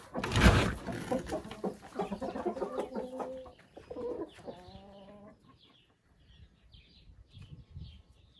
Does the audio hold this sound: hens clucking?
yes